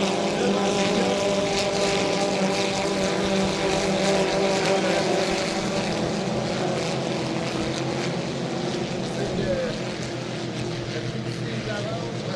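Racing motorboats in the 2.5-litre class at the Valleyfield regatta, a steady loud engine drone that holds throughout, with a commentator speaking over it.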